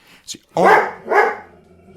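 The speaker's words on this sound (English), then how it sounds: "besides a barking Doberman Pinscher" A Doberman Pinscher gives two loud, close barks in quick succession, followed by a short fading tail, with no speech around them.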